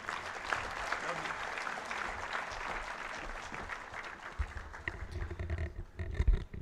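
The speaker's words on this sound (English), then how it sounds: "The rounds of applause that you have given to Mr. Bedi" Audience applause at a business forum session, a dense wash of clapping filling the hall for several seconds, with low thumps and murmuring near the end.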